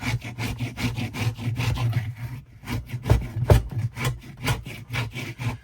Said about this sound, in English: taking slithers of wood off